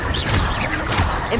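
A Bombarda blasting spell goes off in Hogwarts Legacy, a dense, loud crashing burst with whooshing sweeps that fills the whole short moment without pause.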